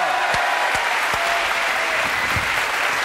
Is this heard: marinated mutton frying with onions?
no